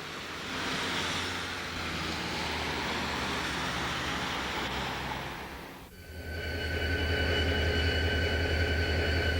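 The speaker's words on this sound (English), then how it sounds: "a beautiful plume hangs in the heavy air as the train enters Clinch Mountain Tunnel" Union Pacific Challenger 3985 steam locomotive, running as Clinchfield 676, rolling into Clinch Mountain Tunnel on a heavy, humid day: a steady loud rumble of the train that muffles briefly, then returns as a close, droning roar with high whining tones.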